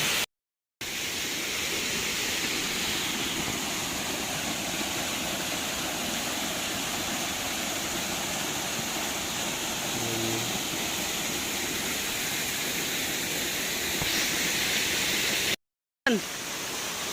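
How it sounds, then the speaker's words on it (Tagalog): A waterfall gives a broad, continuous rushing roar that fills the whole scene at steady loudness, briefly cut off at the start and near the end. "Yan ang waterfall."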